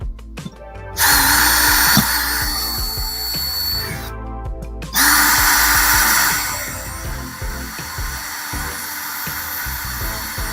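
A power drill fitted with a small drill bit whirs loudly in two long bursts, briefly stopping around the four-second mark, with rattling chatter as the bit struggles against the material.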